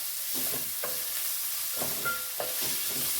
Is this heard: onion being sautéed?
yes